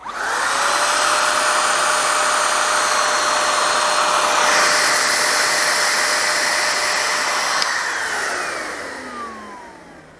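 A Dewalt cordless battery-powered HVLP paint sprayer with a 2.5 millimeter tip hisses and whines loudly and steadily, its turbine tone holding for several seconds before winding down toward the end.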